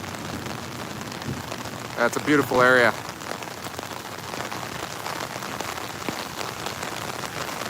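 Steady rain falling in Parque El Poblado, Medellín, a continuous soft hiss throughout, with a person briefly speaking over it early on.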